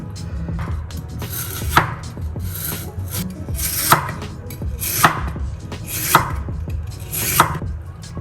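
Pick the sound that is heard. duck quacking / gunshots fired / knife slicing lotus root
knife slicing lotus root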